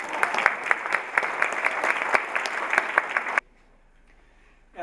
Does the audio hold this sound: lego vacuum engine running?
no